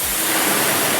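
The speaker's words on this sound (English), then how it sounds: "Water just flows off," Water from a hose sheets off the ceramic-coated paint of a car, a dense, steady hiss of spray and runoff, close and loud, with no talking.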